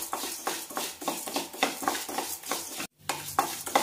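Black kavuni rice is dry-roasted in a pan and stirred in quick rhythmic strokes. The grains rustle and scrape with a light sizzle, broken by a brief silent gap near the end.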